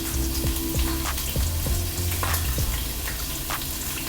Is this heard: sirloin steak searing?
yes